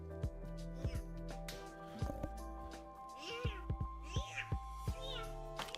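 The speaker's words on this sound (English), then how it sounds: "Cat." A house cat meows several times in short rising calls, fairly close and moderately loud, over a steady electrical hum and background clicks.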